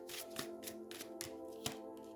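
A deck of tarot cards being shuffled by hand, a series of soft riffling bursts in an uneven rhythm, close by over a faint steady hum.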